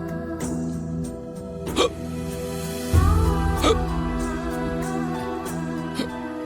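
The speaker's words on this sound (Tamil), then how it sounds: "நீ நினைக்கிற நினைப்புக்கு இந்நேரம் அவருக்கு விக்கல் மேல விக்கலா வந்திருக்கும்" Hiccups in a Tamil TV serial scene: a handful of sharp, separate hiccup bursts spaced a second or so apart, set against steady background music.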